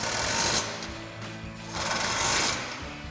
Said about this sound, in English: grab our larger provided Allen wrench as well as our 18mm socket. Go ahead and tighten down these bottom hardware.